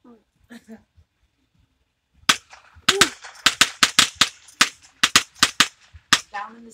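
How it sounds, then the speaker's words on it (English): A rapid series of sharp firecracker pops during a Fourth of July fireworks show, roughly a dozen cracks in quick irregular succession, loud and close, preceded by a few faint voices. "Those are little firecrackers."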